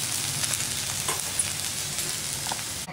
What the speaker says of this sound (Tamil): இப்போ வெங்காயம் வெண்டைக்காய் வதங்கிடுச்சு.